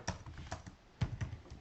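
Keystrokes on a computer keyboard as a SQL query is typed, with quick, light clicks in a few short bursts separated by brief pauses, close and fairly quiet, and no talking.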